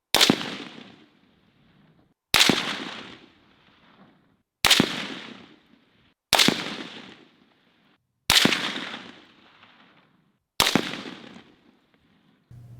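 Six rifle gunshots fired in open desert, evenly spaced about two seconds apart. Each is a sharp, loud crack with a long, fading tail and quiet between shots.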